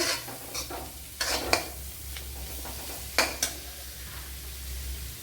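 Ginger and garlic fry in oil in a pan for a Kerala-style bitter gourd curry, a soft steady sizzle broken by a few sharp scraping stirs of a spoon against the pan.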